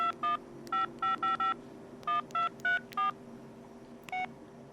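Keypad tones from a Samsung u450 Intensity phone as a number is entered: a quick run of short, clear dual-tone beeps in uneven clusters over faint room hum, with no talk.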